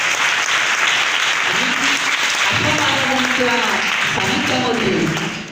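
An audience at a birthday event held at an orphanage breaks into loud, sustained applause that fills the room for several seconds, with a voice heard speaking just before it.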